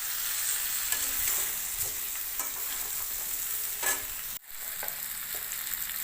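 Cauliflower stir-frying with fried spices in a hot pan: a close, steady sizzle with repeated scraping stir strokes, briefly cut off near the end before resuming.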